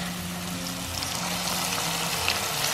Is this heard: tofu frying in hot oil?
yes